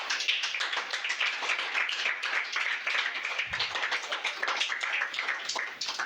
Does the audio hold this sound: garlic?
no